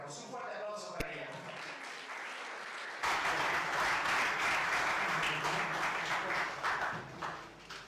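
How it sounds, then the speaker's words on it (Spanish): Audience at a legal forum in Potosí breaks into sustained loud applause for a speaker, dense clapping filling the room for several seconds after a brief announcement voice. "Un fuerte aplauso para ella."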